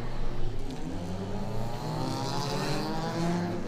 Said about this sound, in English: all these different cars as they head out the pit lane.